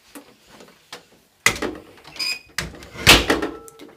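House door in a family home being opened and closed: a quiet rattle of the handle, then two louder bursts of wood and latch clatter a second apart, the second with a sharp metallic click, with no voices.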